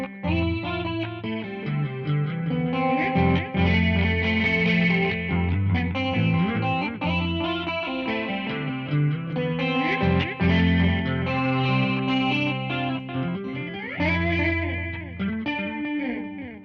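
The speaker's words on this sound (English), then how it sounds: "it's just like a very sparkly chorus sound" Electric guitar played through a Walrus Audio Qi Etherealizer pedal set to a sparkly chorus with delay, ringing chords and melodic lines shimmering continuously for several bars with trailing echoes, no talking.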